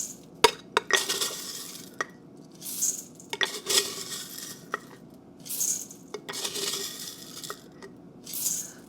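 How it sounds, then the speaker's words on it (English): Dried cranberries are scooped with a quarter-cup measure and tipped into a bowl of white chocolate cookie dough, making several separate rattling pours with light clinks and scrapes of the cup against the bowl, close and alone. "I'm going to do a cup of the dried"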